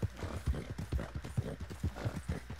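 Rapid rhythmic clip-clop of a galloping horse's hooves in the Red Dead Online video game, steady fast beats close up with little else around.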